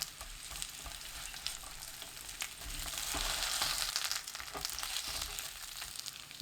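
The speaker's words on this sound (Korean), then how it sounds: "팬에 식용유 3큰술, 고구마 넣고 센 불로 2분 굽듯이 볶아줍니다." Sweet potato sizzles in three tablespoons of cooking oil as it is stir-fried in a pan over high heat, a steady close crackle with soft scraping stir sounds and no talking.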